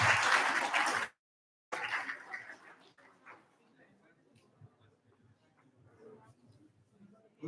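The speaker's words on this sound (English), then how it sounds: "let's give a warm round of applause for Dr." An audience at an AI/ML workshop applauds in a loud, dense burst lasting about a second. The clapping cuts to silence, followed by quieter talking and room noise.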